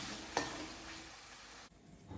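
Beef mixture frying in a pan for Malabar-style beef puzhungapathil, with a steady sizzle and a sharp stir or scrape near the start, the hiss fading briefly near the end and then returning.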